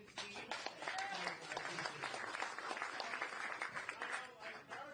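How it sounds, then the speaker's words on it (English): Audience at a campaign town hall event for a presidential candidate claps steadily for about five seconds, a dense, fairly close wash of hand claps with voices and cheers mixed in. "clap for the man and his team"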